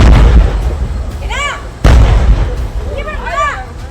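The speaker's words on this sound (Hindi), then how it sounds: "एक के बाद एक कई ब्लास्ट हुए हैं सिलेंडर्स में" LPG cylinders exploding one after another on an overturned, burning truck: two loud, booming blasts about two seconds apart, each followed by a rolling tail, with frightened voices crying out between them.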